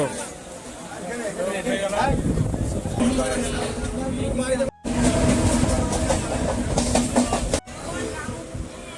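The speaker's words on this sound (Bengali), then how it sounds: "আমরা যে দু নম্বর প্ল্যাটফর্মে ওয়েট করছি এই ট্রেন চলে এসছে" A local train bound for Sealdah pulls into platform two at a station, its broad rumble and hiss running loud and steady under the busy chatter of people on the platform.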